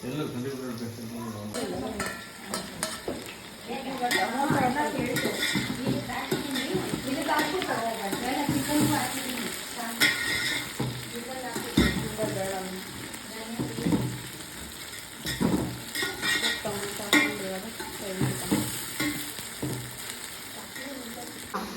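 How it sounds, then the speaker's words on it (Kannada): Tomato, ginger and garlic frying in a pan as a spoon stirs and scrapes them, with steady close sizzling and frequent metal clinks while a person talks over it throughout. "ಟೊಮೊಟೊ ಶುಂಠಿ ಬೆಳ್ಳುಳ್ಳಿ ಫ್ರೈ ಆಗೋಷ್ಟೊತ್ತಿಗೆ ಅದನ್ನ ಇದಾಗುತ್ತೆ"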